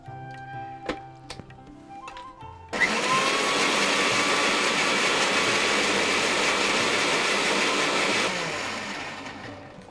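A kitchen blender whirs loudly as it blends pineapple juice with a little water, starting abruptly after a few clicks and knocks, running in a steady harsh drone, then winding down.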